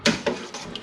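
A spoon clinking against the side of a pot while stirring Southern-style catfish stew, two quick close knocks and then a softer scrape and tap, with no voices.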